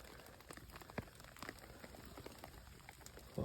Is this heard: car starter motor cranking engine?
no